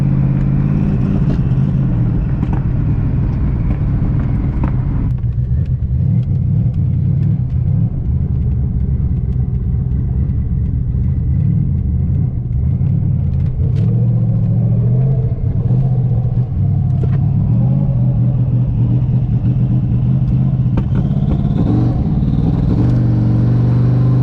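A twin-turbo Ford Mustang Cobra pulls under high boost, heard as a loud, steady engine drone from inside the car. The pitch shifts between gears across roughly twenty-four seconds, and nobody speaks.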